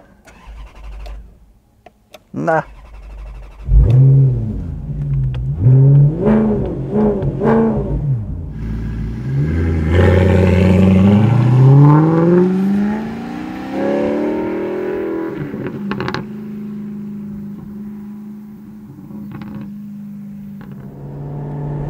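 An Alfa Romeo 8C Spider with a carbon-fibre body starts up nearby: a short starter crank and a loud catch, then a run of sharp revs rising and falling before it settles into a steady, rumbling idle.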